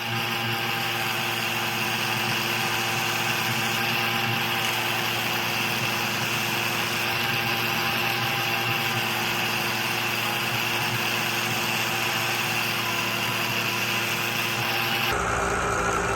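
Buffing wheel spinning against a knife blade loaded with white aluminum oxide buffing compound, a continuous loud high whine and motor hum that holds steady for about fifteen seconds before shifting abruptly near the end.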